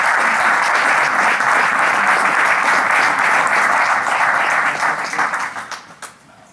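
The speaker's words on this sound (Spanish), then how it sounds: "Me gustaría pedir primero que todo un aplauso para todos vosotros" A conference audience breaks into loud, dense applause, steady for several seconds before tapering off into scattered claps and fading out.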